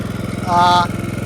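A Kohler Command engine on a Craftsman LT1000 lawn tractor runs with a steady, rapid low putter, while a brief higher whine or squeal rises over it in the middle and then fades.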